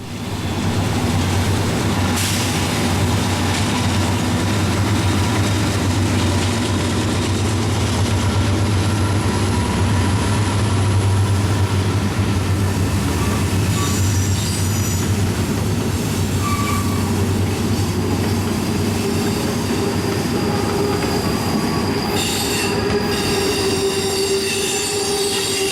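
A heavy freight train of coal hoppers rumbles past at close range, its wheels clattering steadily with occasional metallic squeals, continuous and loud throughout.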